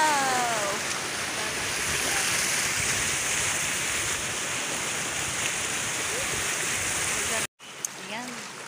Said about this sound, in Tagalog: Hindi mo kayang tumawid kasi na malakas yung lagaslas na